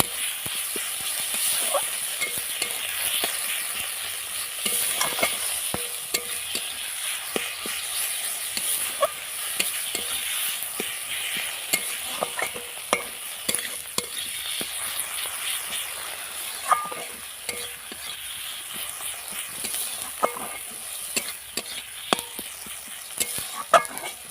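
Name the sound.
soybean and potato curry being stir-fried in pan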